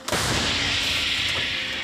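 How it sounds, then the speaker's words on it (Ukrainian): A single loud artillery blast from a frontline position in eastern Ukraine, with a sharp onset, followed by a sustained roaring rumble that fills the rest of the clip without fading much. "Постріл!"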